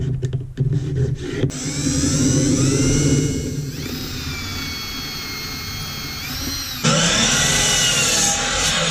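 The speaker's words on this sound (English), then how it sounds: "I'm actually going to cut this off right here in the miter saw." A miter saw spins up to a loud, high whine and bites through a piece of wood, the tone shifting as the blade cuts and then running on before a final surge, with no voices.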